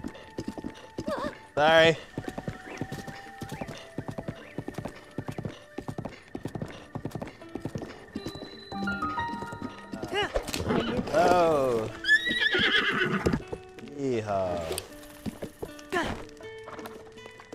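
In Zelda: Breath of the Wild on the Wii U, a horse's hooves clip-clop in quick runs while it lets out several loud whinnies, and someone talks over the game sounds.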